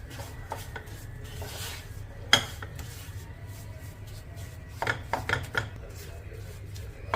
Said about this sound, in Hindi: इसे इसे चलाते हुए इसी तरह से भूनना है